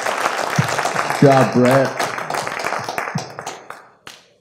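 Applause from a conference audience, steady clapping with a few louder close claps, while a voice speaks briefly over it before the clapping tapers off.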